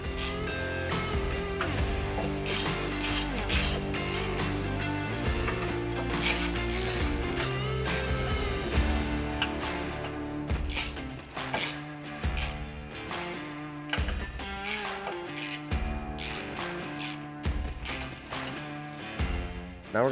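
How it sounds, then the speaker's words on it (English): A ratchet clicks rapidly while snugging windshield mounting hardware on a CFMoto Uforce 1000, close bursts of pawl clicks interrupted by short pauses and metallic taps. "we're just going to go ahead and snug the hardware up"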